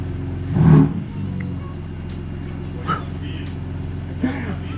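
A BMW M3 engine with a newly tuned ECU idles with a steady low drone, briefly revving up near the start and giving a couple of quick, sensitive throttle blips later.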